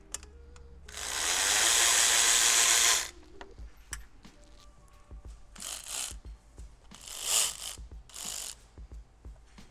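A ratchet wrench removes 10mm bolts with backer nuts during a turbo install on a first-generation Chevrolet Sonic/Cruze, heard as one long loud burst of ratcheting followed by shorter clicking bursts and scattered metallic taps nearby.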